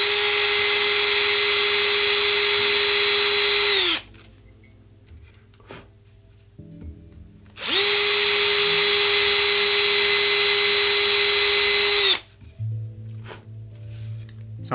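A small power drill whines at high speed in two steady bursts of about four seconds each, drilling out the dot inlays in a guitar fretboard into the wood of the neck, with quiet pauses between.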